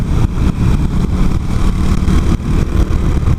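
A Suzuki GN125 motorcycle engine idles steadily up close, a loud, even low rumble with rhythmic pulsing and no talking.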